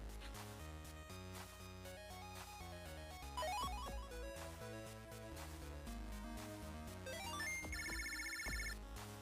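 A ringtone-style phone call alert from the Mega Man Battle Network 2 video game, an electronic melodic chime with rising tone runs and a rapid repeating high trill near the end over continuous game music.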